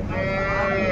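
A cow at the Punganur cattle market gives one long, loud, steady moo that fills the whole moment, with the low bustle of the market behind it.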